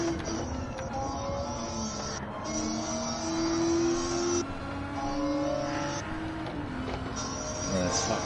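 Loud race car engine in Gran Turismo 7 at Daytona Road Course, revving and shifting through gears with whining pitch sweeps and a car passing, while people talk over it.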